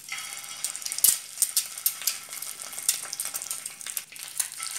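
Stuffed eggs fry in a generous amount of hot oil in a pan, making a bright, crackling sizzle with irregular spits and pops close to the listener.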